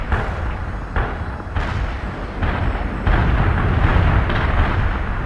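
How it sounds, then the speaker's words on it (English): Artillery barrage pounding a target area in World in Conflict, a run of heavy booming blasts rolling one after another into a loud, continuous rumble, no voices over it. "Artillery barrage hit for full effect."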